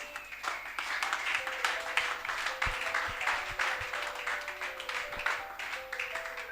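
A church congregation claps and applauds continuously in a dense, steady wash of hands, with a sustained keyboard or organ tone running beneath it.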